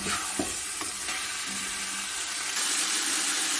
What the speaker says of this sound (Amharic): ቀዝቃዛ ውሃ ነው የጨመርኩበት፣ የሞቀ ውሃ አይደለም